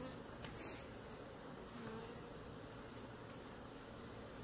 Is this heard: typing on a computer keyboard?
no